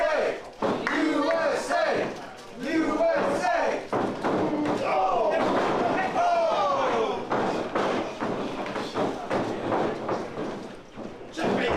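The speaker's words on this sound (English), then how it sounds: "Crowd trying to get him fired up as well with the USA chants as usual" A crowd at a live wrestling event with a play-by-play commentator, chanting rhythmically and loudly, with thuds from the ring mixed in and a commentator talking over the noise.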